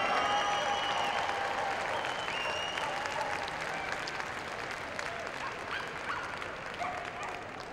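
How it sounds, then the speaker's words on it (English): Sustained crowd applause at the Crufts 2002 flyball final as the dog teams leave the arena, steady dense clapping across the whole stretch with a faint announcer-style voice and crowd murmur beneath. "Let's give all a round of applause as they leave the arena."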